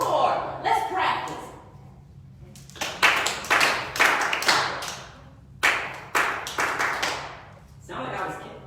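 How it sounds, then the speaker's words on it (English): Children at a library story time clap their hands in a counted beat of four, with sharp claps in clusters, a leader talking between counts, and some claps sounding a little uneven and extra. "How many times are we going to clap? 4. 1, 2, 3, 4."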